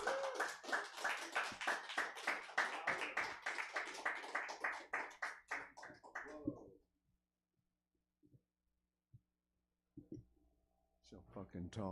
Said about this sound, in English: Everybody give a majorly big round of applause to Joey C.